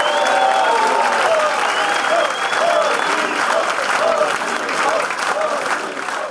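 An audience gives warm applause to welcome a politician, the vice-governor candidate for the state of São Paulo, Rodrigo Garcia, with dense sustained clapping and crowd noise while a voice speaks over it.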